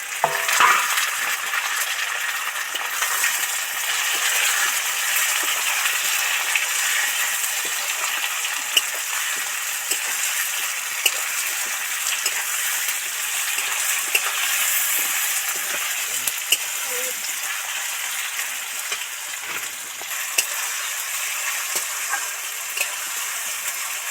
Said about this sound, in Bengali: এবার যে বড় বড় আলুগুলো কেটে রেখেছিলাম সেটাই তেলের মধ্যে উঠিয়ে দেবো